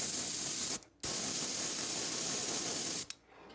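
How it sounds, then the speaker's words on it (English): An airbrush sprays paint onto a shad-colored crankbait fishing lure in two close, steady hissing bursts, each cut off sharply by a brief pause before the next pass. "I'm going to go ahead and get the spray over it done."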